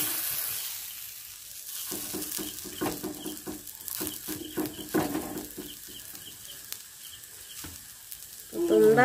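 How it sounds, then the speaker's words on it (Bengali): Long strips of pumpkin fritter batter fry in oil with a crackling sizzle that rises and falls, with occasional soft stirring or placement sounds close by. "এবার আমি বড়াগুলোকে ভেজে নেব।"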